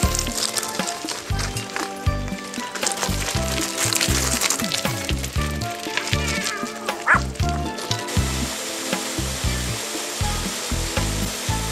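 Several dogs bark repeatedly in rapid, overlapping bursts on an outdoor hike toward Mar Saba monastery, loud and continuous over rustling wind noise.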